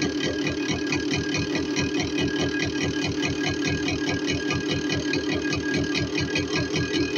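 Rs100 motorcycle engine idling during carburetor tuning, a steady rapid putter that stays even and mid-loud throughout with no talk.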